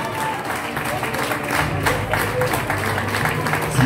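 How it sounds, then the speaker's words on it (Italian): Applause from the audience at an arts therapy congress as a graduate is honored, a steady, moderately loud wash of clapping with a murmuring crowd and faint voices underneath. "eccola Denise, un applauso."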